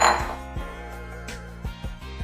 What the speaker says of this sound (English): We are just gonna stir in our brown sugar until it is completely combined.